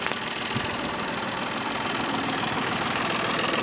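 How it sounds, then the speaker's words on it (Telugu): A 2019 Tata Tiago XT diesel engine idles with the bonnet open, giving a steady, close, even clatter that holds at a constant level throughout, with no talk over it. "ఇంజన్ కూడా చాలా స్మూత్ ఉన్నది."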